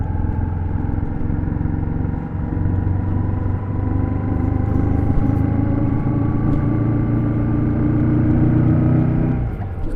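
A Royal Enfield Shotgun 650 motorcycle with its 650cc twin engine runs steadily up close, a loud continuous low rumble with a faint rising pitch of gentle throttle throughout.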